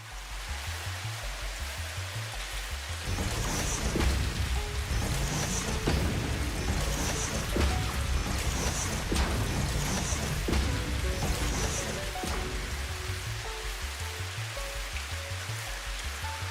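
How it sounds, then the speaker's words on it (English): Steady rain falling in the video game Satisfactory, a continuous broadband hiss of water that swells after the first few seconds and holds evenly, with faint music-like tones underneath and no talking. "There's a lot of rain when you do that"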